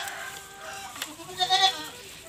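Pregnant goats on a farm bleat faintly in short wavering calls, clustered toward the end against quiet outdoor background noise.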